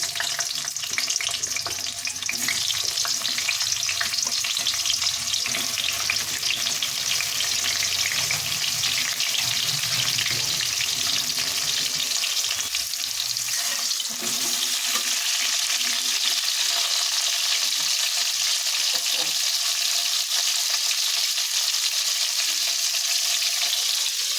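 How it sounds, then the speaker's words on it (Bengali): Pointed gourd (potol) frying in hot mustard oil in a pan, a steady close sizzle and crackle that fills the whole stretch, with occasional stirring and slight shifts in intensity. "তো এবার আমি পটলগুলো একটু ভেজে নেব, তার জন্য এখানে তেল বসিয়ে দিয়েছি।"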